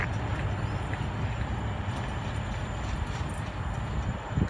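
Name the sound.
train at Weston-super-Mare station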